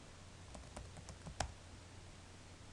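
A few scattered keystrokes on a computer keyboard during molecular modeling work, soft and close, with one sharper click standing out among the light taps over a low steady hum.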